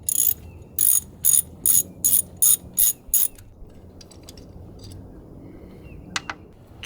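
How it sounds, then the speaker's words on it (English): A ratchet loosens the ignition coil bolts on a 2005-2015 Toyota Tacoma engine in eight quick, loud bursts of clicking, close by. Faint small metallic clinks and handling sounds follow. "take off these bolts right here and remove the ignition coils"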